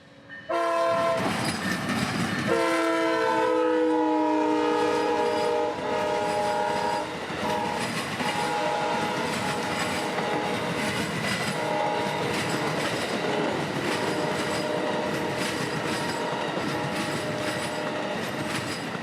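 Amtrak 92 passenger train rolling into Tampa, Florida over a rail diamond crossing: loud horn blasts open, then a steady close rumble of cars and wheels passing for the rest of the time.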